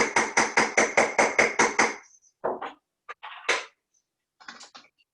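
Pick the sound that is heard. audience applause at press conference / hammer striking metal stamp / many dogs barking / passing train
hammer striking metal stamp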